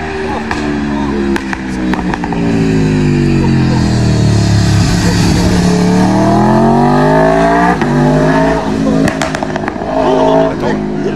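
Loud motorcycle engine revving hard, rising and falling like a Formula 1 car; a close, continuous high-pitched roar that sweeps up and down, with a person speaking over it.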